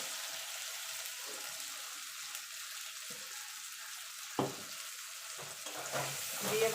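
Ground mustard paste gets stirred into frying tilapia and eggplant curry, a soft steady sizzle under intermittent spoon scrapes and knocks against the pan, growing busier toward the end.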